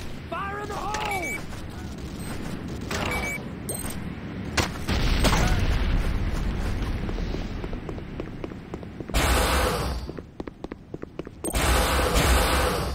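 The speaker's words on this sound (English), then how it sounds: "C4 is set. C4 is set. Fire in the hole!" A C4 charge detonates in a video game, giving a heavy booming blast with rumbling low end, mixed among gunfire, mechanical clatter and shouting voices over a busy in-game soundscape.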